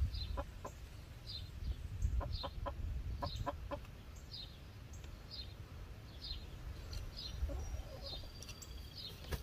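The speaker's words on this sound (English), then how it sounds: "We're still not sure either one of those aren't roosters." Chickens cluck in a garden in Ohio, with repeated short clucks and chirpy calls at a moderate distance over a low steady background rumble, with no talking.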